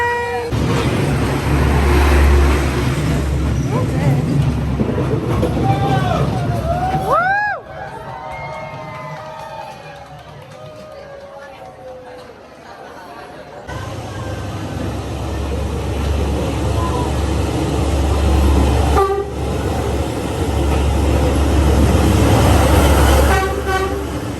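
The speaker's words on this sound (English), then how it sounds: "Everyone's waiting for the train to come." A train horn blasts twice, echoing over a noisy crowd waiting at a station in Vietnam, then a heavy rumble builds as the train rolls in close and loud.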